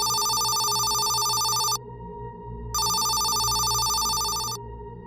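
An old-style telephone bell rings loudly in two long bursts of about two seconds each, with a short pause between them, over a low background hum and no speech.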